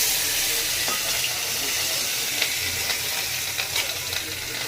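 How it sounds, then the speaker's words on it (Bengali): Large pabda fish frying in white oil, a continuous hissing sizzle heard close with faint crackles and a low background hum, with no voices over it. "এই যে মাছ ভাজা হয়ে যাচ্ছে"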